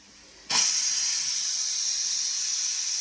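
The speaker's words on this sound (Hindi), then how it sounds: "एक सीटी आ गई अपने कुकर" A pressure cooker whistle bursts into a loud, sustained steam hiss that starts abruptly and holds steady, heard during a meal at a Himalayan trek stop near Chopta and Tungnath.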